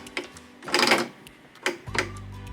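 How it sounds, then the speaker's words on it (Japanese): A zigzag sewing machine stitches along the torn edge of fabric in short mechanical bursts of clattering needle strokes, then settles into a low steady motor hum near the end; no one talks. "ジグザグミシンをセットして今ビリビリっと裂いた生地端にこのジグザグミシンをかけておきます。"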